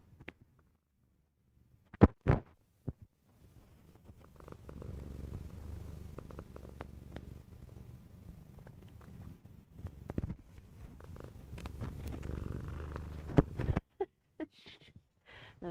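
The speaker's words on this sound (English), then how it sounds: "Live purring from Dolly." A cat purrs softly and continuously up close, a low rhythmic rumble broken by a few sharp clicks and bumps near the microphone.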